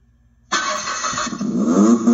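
A FUNCID 24-volt electric ride-on toy Jeep powers on: silence, then a sudden steady whirring, humming drone from about half a second that holds loud and continuous to the end, with a rising tonal whine near the close.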